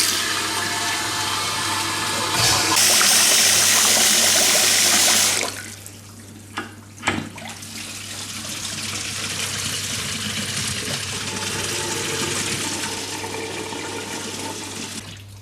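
Water runs steadily from the taps of a newly fitted vanity unit basin, a loud continuous splashing rush that stops abruptly midway, followed by quieter dripping, a couple of knocks and a softer lingering trickle.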